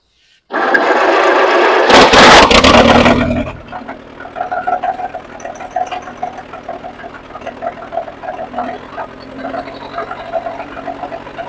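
A 1955 Allis Chalmers CA tractor engine that sat outside for years cranks loudly and catches, then settles into a steady, rattly idle with uneven chugging pulses.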